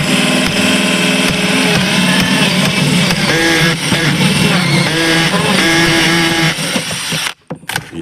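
Jigsaw cutting siding during a home renovation, a loud, continuous buzzing saw running close for most of the stretch before stopping abruptly near the end, with no talking.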